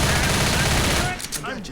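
Rapid, dense gunfire from the video game Left 4 Dead, loud and continuous for about a second before breaking off, with faint game voices and effects trailing behind.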